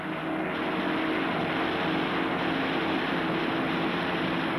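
Steady droning roar of WWII Heinkel 111 bomber engines in formation, a continuous dense hum without breaks, loud and even throughout.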